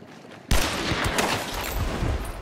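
Gunfire from the Springfield Marksman rifle in Hunt: Showdown, erupting abruptly after a quiet half-second into a loud, sustained burst of sharp cracks and rolling reverberation that continues to the end.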